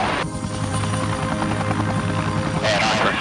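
A rescue helicopter hovers during a winch operation, its steady rotor and engine drone running throughout, with voices talking over it.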